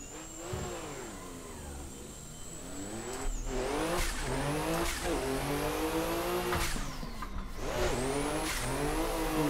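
Toyota A90 Supra in a sim racing game, engine revving loud and close through repeated rising and falling gear pulls, with brief tire squeal and no talk.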